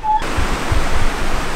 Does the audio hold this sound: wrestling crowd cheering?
no